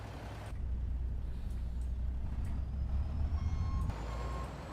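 A loud idling truck engine in the Farming Simulator 25 video game rumbles steadily and close by, with repeated reversing beeps and a brief air-brake hiss over the drone.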